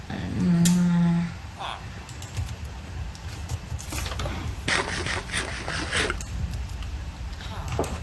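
A single drawn-out video game cow moo near the start, followed by scattered rustling and clattering sounds.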